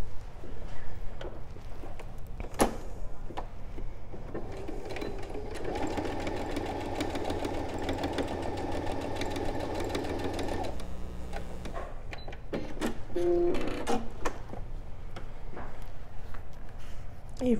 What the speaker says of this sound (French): on va aller à la machine le coudre